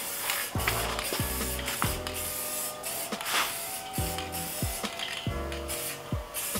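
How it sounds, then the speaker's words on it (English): Aerosol spray paint hisses in repeated bursts as wheel spokes are coated back and forth, with short rhythmic sprays and clicks of the can, close and fairly loud. "So now we spray the spokes back and forth"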